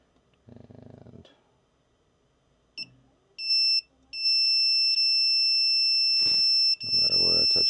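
A multimeter gives continuity beeps while its probes touch pads on a 1992–1997 Ford F-Series truck instrument cluster circuit board: brief high chirps, then a long steady tone, with someone talking before and after.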